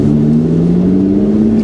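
A Lotus sports car engine runs loud and close with a steady, throaty drone that rises slightly in pitch.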